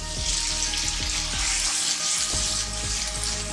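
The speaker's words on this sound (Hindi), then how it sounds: "अब हम टमाटर शामिल कर रहे हैं, 2 अदद टमाटर है।" Two tomatoes go into hot masala frying in a pan for a white chickpea curry, and a loud, continuous sizzle fills the whole stretch, with a few soft stirring knocks underneath.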